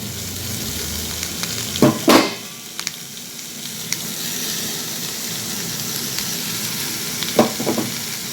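Spice paste of ground poppy seed and mustard with green chilli and ginger being stirred into vegetables frying in oil, a steady sizzle with a few louder scraping stirs near the start and again near the end.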